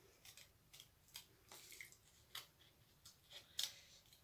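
Scissors snipping while a craft piece is trimmed, a series of quiet, crisp cuts spaced about half a second apart in a hushed room, with one sharper snip near the end.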